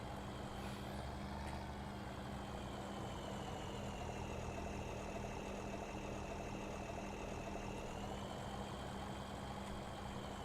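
A tractor engine in Farming Simulator 17 runs at a steady drone with a low rumble and whining tones, and it holds unbroken throughout.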